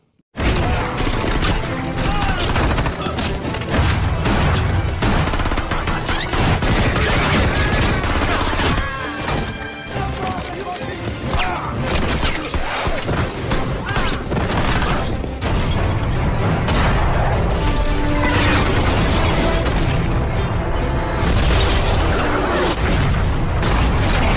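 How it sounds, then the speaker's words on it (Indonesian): Dense, continuous action-film gunfight soundtrack with gunfire, crashes and booming explosions, loud and busy throughout with only a brief dip in intensity near the middle. "lalu baku tembak pun dimulai"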